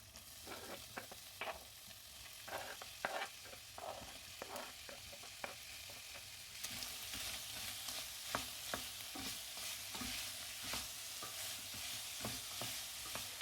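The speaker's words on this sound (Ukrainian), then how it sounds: "Все це обсмажую пару хвилин, поки цибуля не зміне трохи кольор." Onion and garlic sizzle steadily in hot oil, a dense crackling hiss that grows louder partway through, with occasional scrapes of stirring. No talking.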